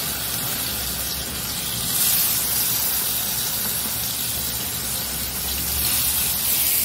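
Lote fish (Bombay duck) fries in hot oil, making a loud, continuous hiss and crackle that swells slightly and never stops.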